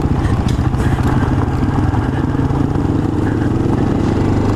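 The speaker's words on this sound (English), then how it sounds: "A little bit of engine brake, a little bit of actual brake." A Honda XR650L dual-sport motorcycle engine brakes on a forest trail ride, giving a steady, close, rumbling single-cylinder burble that holds throughout without any talking.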